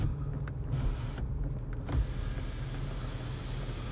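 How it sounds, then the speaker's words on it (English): A 2006 Pontiac G6 power window motor runs inside the car, a close, steady electric whine lasting several seconds over the cabin's low hum. "the window's working"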